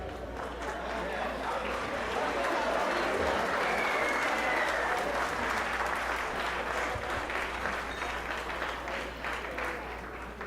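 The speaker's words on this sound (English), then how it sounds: "Let's all give him a nice applause." Wedding guests at a toast applaud the groom, a sustained wash of many hands clapping together at a steady level throughout.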